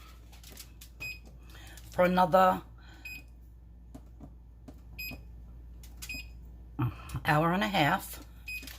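A kitchen timer being set for slow-cooking BBQ spare ribs gives a series of faint, evenly spaced beeps close by, with speech heard in between the button presses.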